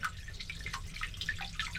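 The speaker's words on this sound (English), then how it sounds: "Drain the fresh water tank." Fresh water drains from a boat's tank through a siphon hose, a steady trickle with a scatter of drips and splashes, close and fairly quiet, with no talking.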